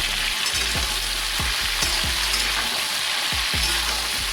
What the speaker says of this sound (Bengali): এবার আমি সবজি কাটাটা দিয়ে দিই।